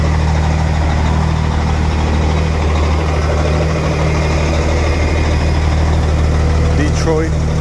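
Extra-long-hood Peterbilt truck with a Detroit diesel engine idling nearby, a loud, steady low rumble throughout, with a brief voice near the end.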